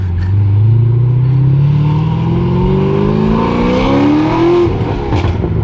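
A stage 3 cammed Corvette Z06 revs up loudly through the gears close by, engine pitch sweeping upward with a brief pop and drop between shifts.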